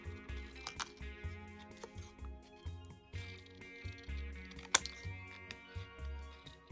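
Scissors trimming a Christmas card around its printed wording, a quiet, close series of small snips and crisp paper rustles at an uneven rhythm, over a faint low hum.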